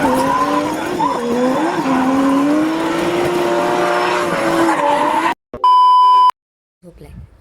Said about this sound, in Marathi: accelerator full full full speed end then hand brake drift drift